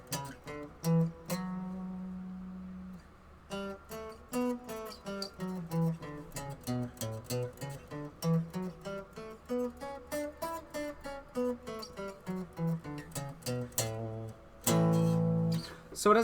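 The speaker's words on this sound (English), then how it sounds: "So our A Mixolydian scale is going to sound like this." An A Mixolydian scale played note by note on a pitched instrument, the notes stepping up and back down in an even rhythm, close and moderately loud, with a few louder sustained chords at the start and end.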